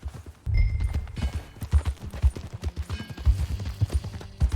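Horse hooves clip-clop in a steady trotting rhythm in the video game Red Dead Redemption 2, close and fairly loud, with no talking.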